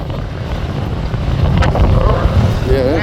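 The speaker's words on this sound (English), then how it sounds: "that wind is horrible." Heavy wind buffets a microphone from a deputy's vehicle, a steady low rumble that swells and stays loud throughout, with faint voices underneath.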